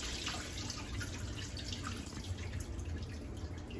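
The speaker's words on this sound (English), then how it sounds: "I'm going to dump out this excess water." Excess water is poured out of a Fluval 207 aquarium canister filter, making a steady splashing, trickling rush that stays fairly even from start to finish.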